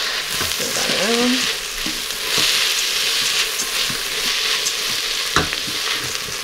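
Rinsed rice stirred in hot fat in an Instant Pot for a carrot rice pilaf: steady broadband sizzling throughout with scraping spoon strokes and a few sharp clicks, close and fairly loud, no talking.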